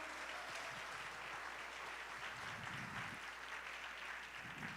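A church congregation applauds together during a service, a steady, dense wash of many hands clapping that holds evenly throughout with no voices over it.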